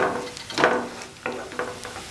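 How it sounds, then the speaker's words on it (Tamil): Carrots being sautéed in a pan for betel leaf rice, with a soft ongoing sizzle and a few louder scraping stirs, close and alone with no talk. "கேரட் சேர்த்து ஒரு 1 நிமிஷம் வதக்கினா போதும்"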